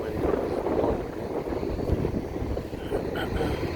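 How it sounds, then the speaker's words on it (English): Steady wind blowing outdoors in Hartford, Connecticut, a continuous rushing roar buffeting the microphone with no distinct breaks. "when it's blowing, wind is blowing"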